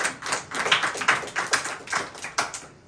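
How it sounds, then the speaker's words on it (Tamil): A church congregation claps hands during a Pentecost service, a rhythmic run of sharp claps at a steady beat, moderately loud and close. "கைத்தட்டி ஆண்டவர் மகிமைப்படுத்துங்க."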